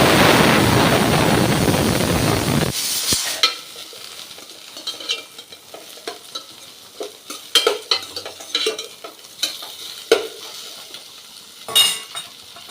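Bitter gourd pieces fry in hot oil with a loud, dense sizzle at first, then quieten as a spoon stirs and scrapes the pan, giving scattered clinks and clatters.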